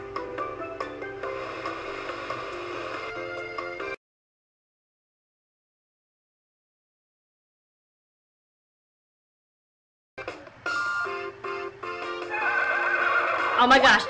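A horse in the farming video game Harvest Moon: Sunshine Islands whinnies clearly, with game music and hoof clip-clop around it. A long stretch of total silence follows before the music and horse sounds return louder.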